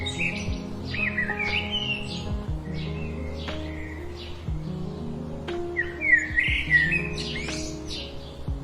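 A cartoon bird chirps in quick bright tweets and squawky calls, recurring in bursts over a steady musical backing, loud and close.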